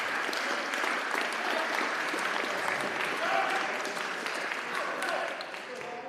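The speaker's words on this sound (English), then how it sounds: "give yourselves a round of applause at all you've done" A crowd at a high school signing day ceremony applauds with dense, steady clapping that carries on evenly and thins slightly at the end.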